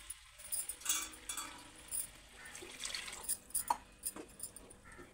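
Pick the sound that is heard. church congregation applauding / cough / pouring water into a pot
pouring water into a pot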